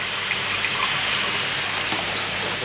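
Water gushes steadily from the valve of an Evolution Aqua Nexus 310 aquarium filter as it drains, a loud, continuous rushing hiss with no pause.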